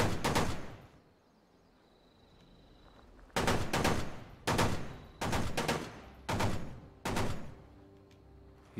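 Gunfire in the video game Fallout 76 opens with a loud rattling burst and a quiet lull. Then five or six sharp, punchy shots or short bursts follow in quick succession.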